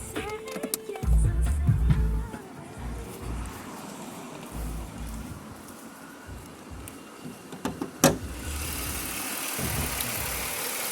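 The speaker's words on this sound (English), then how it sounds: "Nice, smooth running, quiet engine." A 2004 Chevrolet Impala with the GM 3.8 engine idles steadily under the open hood, a low, even hum with a few soft thumps near the start and one sharp knock around the eighth second.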